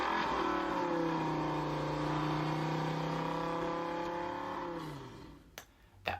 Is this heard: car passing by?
yes